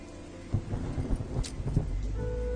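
Heavy rain pours down steadily, with low rumbling thumps and gusts rolling underneath; no one speaks.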